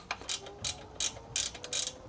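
A 19mm ratcheting spanner tightens bolts on a Nissan 350Z drift car's brake setup, giving about six short bursts of rapid metallic clicking with brief pauses between strokes, close and clear.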